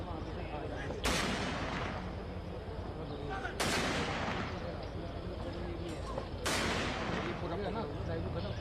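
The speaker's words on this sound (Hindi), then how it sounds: "17 तोपों की सलामी दी गई पूरे मिलिट्री ऑनर के साथ" Three booming cannon shots ring out at regular intervals during a 17-gun military salute at the funeral of CDS Bipin Rawat. A news commentator's voice continues beneath them.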